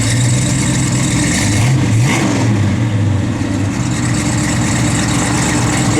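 A 1966 Chevrolet Chevelle SS big block V8 running close by, a loud deep rumbling idle with a brief rev swell, steady throughout.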